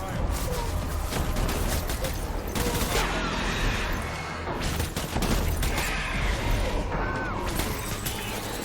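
Gunfire from the video game Death Stranding: dense, rapid bursts of shots and impacts run almost continuously at close range, with brief lulls and voices mixed in.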